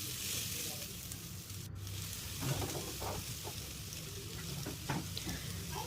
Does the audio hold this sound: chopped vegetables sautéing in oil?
yes